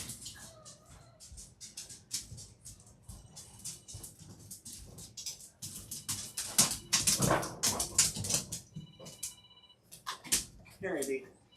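A dog whimpers and yips in short, uneven bursts through the clip, mixed with a person talking nearby in a room.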